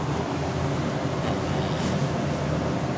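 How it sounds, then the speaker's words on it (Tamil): An electric fan running nearby gives a steady, loud broadband whirring hum that stays even and unbroken from start to end. "அதனால் பக்கத்தில் ஃபேன் ஒரு ஓடுதா,"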